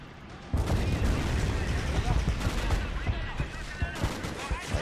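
Mortar and gunfire crash through a World War II battle in Men of War: Assault Squad 2, with dense, rapid blasts and crackling shots erupting abruptly and continuing in a busy, loud barrage, with a voice talking over it.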